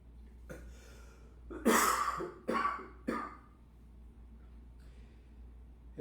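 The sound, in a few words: cough during pranayama breathing practice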